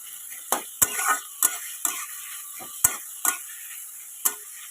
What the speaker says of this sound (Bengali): পেঁয়াজটাকে কিন্তু আমরা ভালো করে ভেজে নেব, যতক্ষণ না পেঁয়াজের মধ্যে একটা গোল্ডেন ব্রাউন কালার আসছে